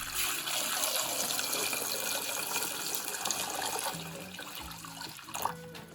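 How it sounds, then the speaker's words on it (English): Tap water pours steadily into a saucepan over eggs, a close, continuous rush that thins out toward the end, with no talking. "Place the eggs in a saucepan and cover with water."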